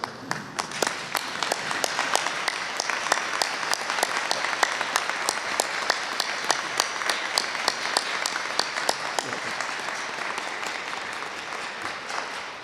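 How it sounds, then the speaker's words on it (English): A large audience at a spring evening commencement ceremony rises and applauds a retiring faculty member, Dr. Faulkner, with dense, sustained clapping that holds steady for the whole stretch. "Could we all stand and give him a round of applause?"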